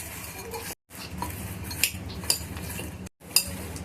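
Crispy corn tossed with chili powder and salt in a bowl, with a spoon scraping and clinking against the bowl in short bursts and a few sharper metallic taps, all close up and with no voices.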